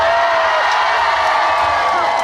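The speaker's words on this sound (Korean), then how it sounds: "끝날 때마다 이렇게 큰 박수 소리와 함성 소리 질러주셔서 진심으로 감사드리고" A large outdoor concert crowd at a trot music performance gives loud sustained applause and cheering, a dense continuous roar of clapping and shouts with no gaps.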